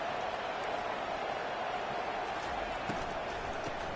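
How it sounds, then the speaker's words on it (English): Stadium crowd in the NCAA 25 college football video game, a steady wash of cheering and roaring from many voices, continuous and moderately loud with no clear breaks. "Listen to the crowd energy here in the early going."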